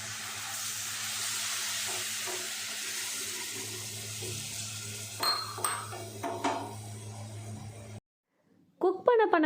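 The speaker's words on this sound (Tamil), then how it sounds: "கொஞ்சமாக வந்து தண்ணி ஆட் பண்ணிக்கிறேன் நான்" Water is poured into a pan of cauliflower curry during cooking, a steady hissing rush for several seconds, then a few utensil clinks, a brief silence and a voice speaking at the end.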